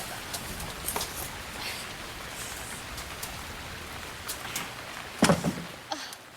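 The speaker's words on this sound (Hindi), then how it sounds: "बाहर कितनी बारिश हो रही है ना।" Heavy rain falling outside, a soft steady patter with scattered louder drops and a brief clatter near the end, fairly faint and without talk.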